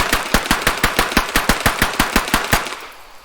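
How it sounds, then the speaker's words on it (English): MK-17 rifle firing in the tactical shooter Squad with a Middle East mod, a loud rapid string of about fifteen evenly spaced shots that ends with a fading echoing tail. "some amazing suppression noises being made with this weapon, as well as the MK-17"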